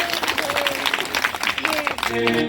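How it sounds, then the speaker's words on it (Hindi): Audience clapping breaks out at a Shrimad Bhagavat Katha religious recitation in a rural Gorakhpur gathering, steady applause mixed with crowd noise and someone speaking over it through a sound system. "हमारे साउंड वाले भैया भैया यहाँ के लिए भी ताली बजा रहे हैं"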